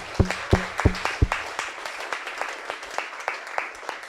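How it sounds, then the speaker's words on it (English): Audience clapping at a startup talk after speakers finish, starting with a few loud, close individual claps and settling into lighter, scattered applause. "Big round of applause for you."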